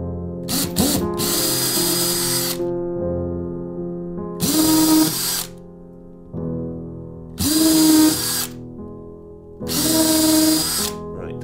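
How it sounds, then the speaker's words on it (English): A power drill with a masonry bit bores holes into a ceiling, four loud separate bursts with short pauses between them, close up and with no talking. "I'm going to do four smaller holes with a masonry bit"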